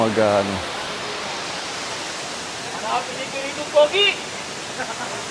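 Hulugan Falls in Laguna pours as a steady broadband rush of falling water, constant and fairly loud, with a voice briefly at the start and faint calls later over the roar.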